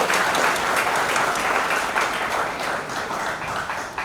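Applause from the audience at a product launch event for menstrual health teaching modules, a dense steady wash of many hands clapping that fills the room and holds loud throughout before easing slightly at the end.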